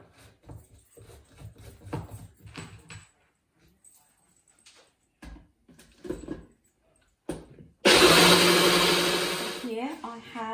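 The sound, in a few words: blender grinding soaked raw rice into paste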